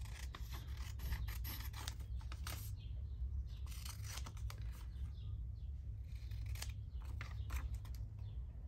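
Repeated snips and slicing of scissors cutting paper for an envelope journal, close and soft over a steady low background hum.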